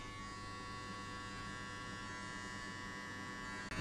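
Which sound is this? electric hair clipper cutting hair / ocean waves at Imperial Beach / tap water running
electric hair clipper cutting hair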